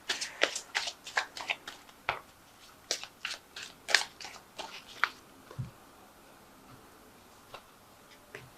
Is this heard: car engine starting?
no